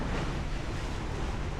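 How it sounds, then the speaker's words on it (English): Water splashing at Pier 26 in New York, a dense continuous rush of surf-like noise mixed with wind buffeting the microphone. "You hear the water splashing?"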